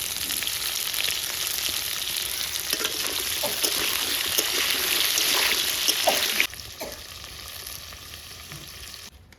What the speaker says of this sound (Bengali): পটলের মধ্যে আমি হালকা একটু লবণ দিয়ে দেবো ভাজার সময়।